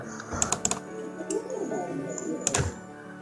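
A name is typed on a mobile phone keyboard in PixelLab: a quick cluster of sharp taps, then a few scattered clicks, close and fairly quiet.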